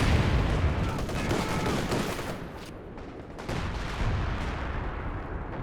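Howitzer shells exploding in the wartime strategy game Company of Heroes 2, rapid overlapping booms and crackling blasts rolling together in a dense barrage, loud and continuous with a short lull midway.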